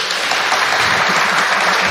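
An audience applauds to cast a vote on a question about Neanderthal man, dense steady clapping from many hands, loud and continuous with no talk over it.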